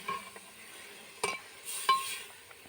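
Pork sizzles with spices in a pan for an Assamese pork curry, cooking on low flame. A faint, soft frying hiss is broken by a few sharp clinks and scrapes of stirring, with no talking.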